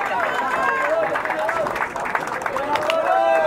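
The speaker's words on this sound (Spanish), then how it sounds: "un aplauso bien grande" Crowd applause with cheering at a trophy and medal ceremony for the Copa Lazarotty youth soccer tournament in Miami, Florida, greeting the championship's best goalkeeper; steady dense clapping with whistles and voices mixed in throughout.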